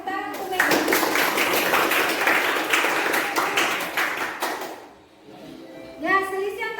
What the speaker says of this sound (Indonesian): Tepuk tangan untuk Mega.